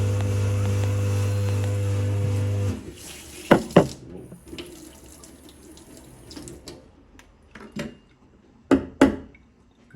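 Running water from a tap rinses a Nanofoamer milk frother in a sink, a loud steady stream that shuts off abruptly after a few seconds, followed by quieter clattering and handling knocks.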